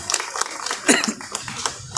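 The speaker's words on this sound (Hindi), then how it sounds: "सबके लिए तालियां बजाओ भाई" Scattered claps from an audience welcoming guests at a literature festival opening, uneven and fairly close, mixed with a voice talking over them.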